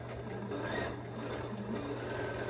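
A sewing machine stitches stretchy knit jersey fabric for a cowl neck dress, giving a continuous close mechanical hum with rapid, even needle chatter.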